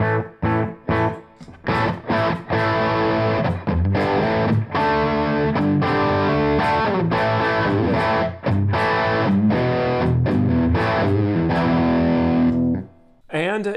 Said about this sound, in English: when I go from the clean sound to the distorted sound, I don't want a big jump in volume